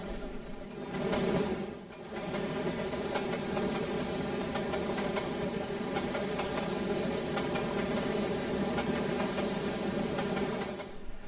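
A very long, heavy freight train, about 7,768 feet, rolls past on the Gregsville Subdivision in the Trainz railroad simulator, a steady engine and rail rumble that swells briefly early on and then holds level.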